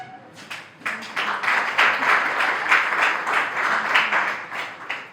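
A crowd at a teacher's training college welcome ceremony in India bursts into sustained applause, many hands clapping together at a steady, lively level until the end.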